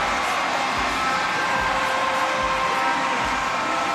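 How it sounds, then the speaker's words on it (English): Crowd cheering in a North Paris sitting volleyball arena during a France versus Ukraine match: a dense, steady roar of many voices, loud and sustained throughout, with low thumps underneath. "Crowd going absolutely wild here in the North Paris arena"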